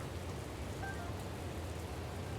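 Steady rain in The Legend of Zelda: Tears of the Kingdom, a soft, even hiss of falling drops that holds constant and faint throughout with no talk over it.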